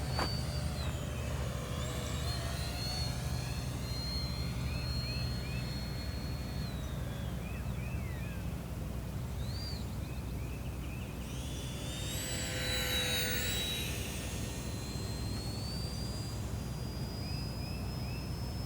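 An E-flite UMX Viper 30mm EDF model jet whines steadily in flight after a hand launch, a continuous high ducted-fan hum that brightens and swells briefly as it passes closer, heard alone over a constant low background rumble.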